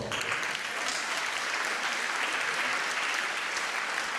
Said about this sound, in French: que je vous demande d'applaudir, Monsieur Guy Bensoussan.